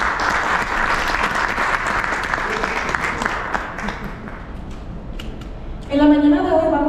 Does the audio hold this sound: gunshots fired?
no